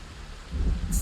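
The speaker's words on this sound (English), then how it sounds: "I can barely hear myself because it's thundering." Thunderstorm with rain in the video game Project Zomboid, a steady hiss of rainfall swelling into a deep rumbling thunder roll partway through, loud and close with no voices.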